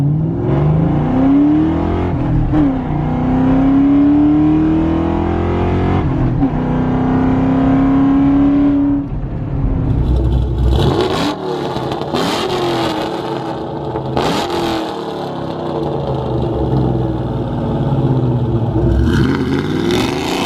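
A 1999–2004 Ford Mustang fitted with an SLP LoudMouth exhaust drives along, its loud engine droning and rising through gears with a few sharp revs, close and continuous.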